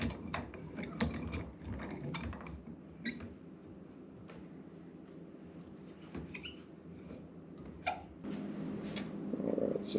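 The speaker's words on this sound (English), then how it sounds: "It works kind of like a vise, and this is what I'm going to use to crack the nuts" An antique vise-style clamp cracks walnut shells, giving scattered sharp clicks and creaks over a low rumble, several distinct cracks spread across the span, with no talk.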